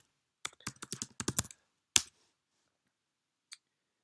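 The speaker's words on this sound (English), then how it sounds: "we'll type in the name of the service" A command is typed on a computer keyboard at a command-line prompt: a brisk cluster of close, crisp keystrokes, then one sharper key press, a pause and a last isolated click.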